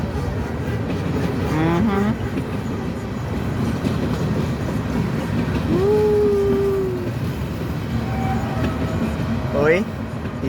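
A train rolls past on the rails with a steady low rumble, and thin squeals of brakes or wheels rise above it several times. It stays fairly loud throughout.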